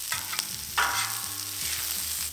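Onions and smashed burgers on a Camp Chef griddle sizzle and crackle steadily, with scraping and tapping from a spatula mixing them near at hand, and no one speaks.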